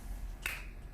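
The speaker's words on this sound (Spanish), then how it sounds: "haga el sonido del chasquido del dedo" A single crisp finger snap, close and sharp, standing out once against a quiet, faintly hissing background.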